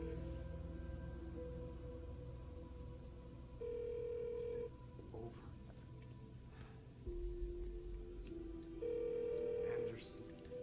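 A telephone rings in a video game: two bursts of steady electronic ring tone, separated by a few seconds, set over dim background game sound and a low voice.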